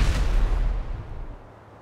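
A sticky bomb detonates in GTA 5, a single booming explosion right at the start that rumbles and fades out over the next second or so.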